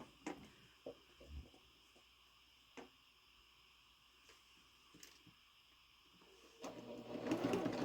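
A sewing machine stitches quilt block pieces in soft, intermittent bursts with scattered clicks, growing louder and more continuous toward the end, quiet and alone without talk.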